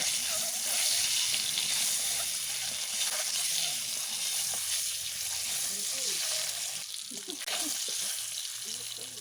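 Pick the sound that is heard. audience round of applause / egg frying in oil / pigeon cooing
egg frying in oil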